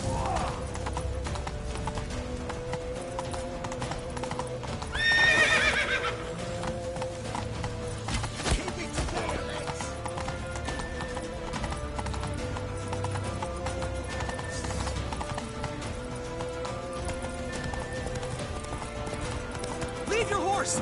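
Rapid hoofbeats of a galloping horse in the video game Witcher 3, with a neigh rising briefly partway through, set against game music and shouting voices throughout.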